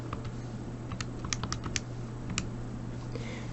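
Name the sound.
typing a function into a calculator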